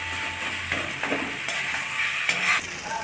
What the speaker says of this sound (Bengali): ভালোভাবে এই কচুগুলোকে ভেজে নিতে হবে। তেল খুব কম দেওয়া হয়েছে,